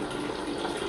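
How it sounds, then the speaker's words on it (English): Water gushes and splashes steadily from a leaking copper faucet hose pipe adapter on a screw joint, a continuous close, loud hiss with no talk. "the problem is when it spills water, you see"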